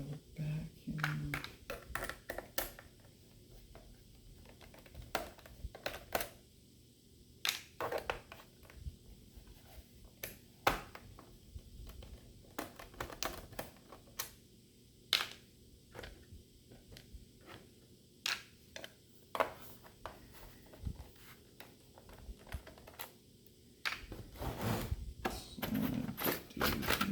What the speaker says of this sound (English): We're just taking the screws out of the back here.